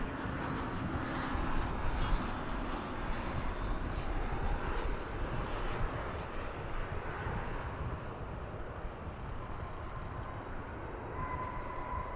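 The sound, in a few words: Airbus A321 airliner arriving at DFW airport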